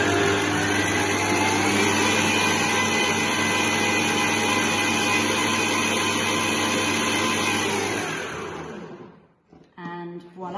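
Electric whisk beating meringue with vanilla, vinegar and corn flour added, a loud steady motor whirr running continuously for about eight seconds before cutting off, followed by faint clinks.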